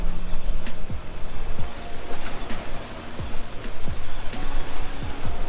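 Waves on the Detroit River slapping against a fishing boat, repeated choppy splashes and thumps at an uneven rhythm, close and loud, under a low rumbling motor hum.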